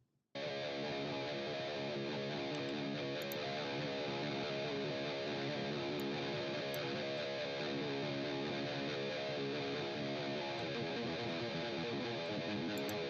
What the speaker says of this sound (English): So I'll give you just the guitar part.